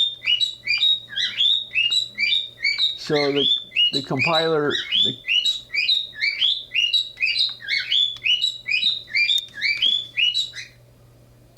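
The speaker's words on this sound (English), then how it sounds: "There's my birds." Pet birds chirp continuously close by, rapid repeated tweets forming a busy rhythmic pattern, while someone talks briefly partway through and a low electrical hum runs underneath.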